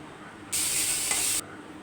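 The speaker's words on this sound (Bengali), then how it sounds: "চেপার ভর্তাটাও হচ্ছে হালকা হালকা করে একটু চুলার আঁচে ভেজে নেওয়া হচ্ছে।" Chepa bhorta, a fermented fish mash, being lightly fried over a stove flame, heard as a sudden bright hiss of sizzling that holds steady for under a second and then cuts off abruptly.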